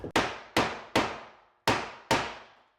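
Five sharp hammer taps drive green board into place, each a crisp, ringing knock with a quick decay, spaced unevenly and close by.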